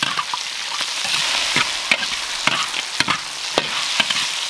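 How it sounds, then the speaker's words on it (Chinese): Duck meat stir-fried in a wok over caramelized rock sugar and rapeseed oil, sizzling steadily with sharp scrapes and clacks of the spatula at irregular intervals, close and fairly loud with no talking. "再放鸭肉， 煎炒一会儿"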